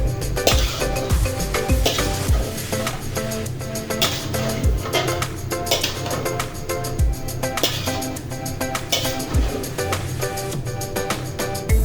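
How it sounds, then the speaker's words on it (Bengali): Raw mango pickle being stirred in a pan, steady scraping and clinking of a utensil against the pan over a continuous loud cooking hiss. "আমি এভাবে 5 মিনিট একটু নাড়াচাড়া করে নিব।"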